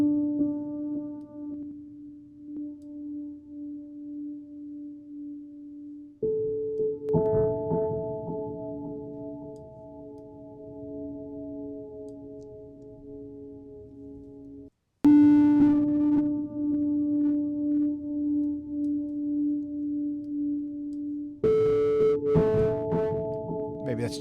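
A steady buzzing synth tone with harsh, gritty, crushed digital distortion from a lo-fi sample rate reduction effect, shifting pitch in blocky steps and cutting out briefly midway.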